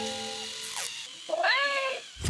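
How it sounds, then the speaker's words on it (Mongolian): A toy robot cat gives a few synthetic, wavering meows, close and clear, with gliding electronic tones and no voices present. "Энэ робот муур жаахан хачин юмс."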